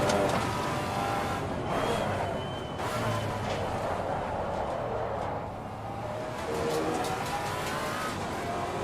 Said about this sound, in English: There's a car exiting pit lane.